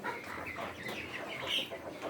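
Chickens clucking softly in overlapping bursts, faint and somewhat distant, a busy flock chattering with no other sounds standing out.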